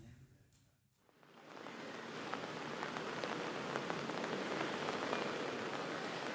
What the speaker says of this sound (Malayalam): ഇന്നലെ രാത്രി മുതൽ തോരാതെ മഴ പെയ്യുകയാണല്ലോ തിരുവനന്തപുരത്ത്